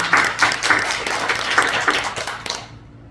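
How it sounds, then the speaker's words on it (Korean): Congregation applauding during a Sunday worship service at a Korean church, a few seconds of scattered clapping that rises at the start and then thins out to silence. "우리 모두 하나님께 영광의 박수를 한번 올려드립시다."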